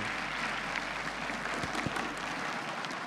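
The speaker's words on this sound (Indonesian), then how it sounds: "Tepuk tangan sekali lagi untuk Indra Frimawan." A stand-up comedy audience applauds steadily, a dense wash of many hands clapping at a fairly even level, somewhat distant and continuous throughout.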